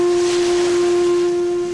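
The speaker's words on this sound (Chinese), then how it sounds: "往来香港海域的货轮频频鸣笛，生怕一不小心就会发生撞船意外" A deep, steady horn from a cargo ship in dense fog in Hong Kong waters, one loud sustained blast held for about two seconds.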